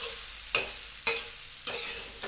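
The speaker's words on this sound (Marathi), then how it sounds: "पाणी टाकायचं यामध्ये." Water hits a hot iron pan of frying toor dal chutney in three sharp bursts that flare into loud sizzling and then settle into a softer hiss, close with no talk.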